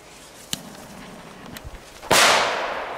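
Crackling ball firecrackers set off for New Year's Eve: two sharp pops, then a loud burst of dense crackling that keeps sizzling and slowly fades.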